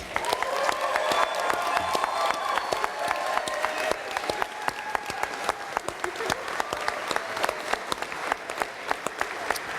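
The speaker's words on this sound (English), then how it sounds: "If we can give them all a round of applause" Steady, dense applause from a crowd at an end-of-year celebration, sustained and fairly loud for the whole stretch, with voices murmuring faintly underneath.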